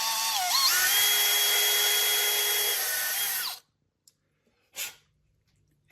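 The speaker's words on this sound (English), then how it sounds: "I could put a drill bit in there and drill the rest of it out" A drill with a 5/64 bit whines steadily and close for about three and a half seconds while it clears leftover plastic from an old exhaust elbow on a Peterbilt truck. It then stops, leaving near silence and one brief rustle.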